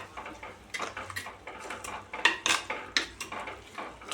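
Chopped amaranth greens (sirukeerai) are stirred into a pan of keerai paruppu thokku, with irregular metal spatula clinks and scrapes over a faint sizzle.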